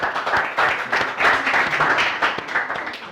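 An audience in a classroom session bursts into steady, dense applause, many hands clapping together for about three seconds.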